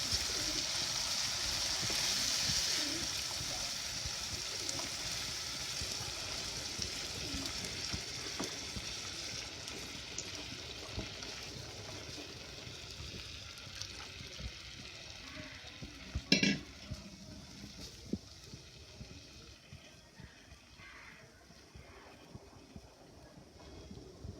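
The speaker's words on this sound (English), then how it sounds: "soften it slowly by stirring it" Grated carrots for gajar halwa stirred in a pan over the heat, a steady close sizzle with soft scraping that runs throughout, plus one sharper knock partway through.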